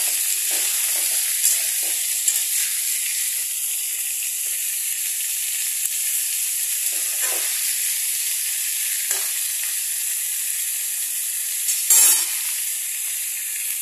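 Vegetables fry in a pan with a bright, steady hiss of sizzling oil, broken by several soft scraping stirs and a sharper clatter near the end, all close and without speech.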